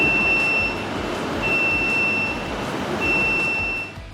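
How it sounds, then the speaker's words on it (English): A Labtech LCFT34-GP filter tester sounds its alarm on program start: a repeating electronic beep with two steady high tones, each pulse lasting under a second, heard close over a low background hum. "an alarm will sound"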